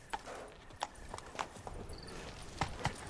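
A horse gallops along in The Witcher 3: Blood and Wine, its regular hoof clip-clops ringing out at a steady rhythm, fairly quiet and close, with no talking over it.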